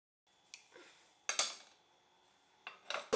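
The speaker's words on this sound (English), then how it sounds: "Slowly place this pan over the other one" A pan lowered onto another pan to flip vermicelli kunafa makes a few sharp metallic clanks and scrapes, separated by quiet pauses, ending in a louder clatter of metal on metal.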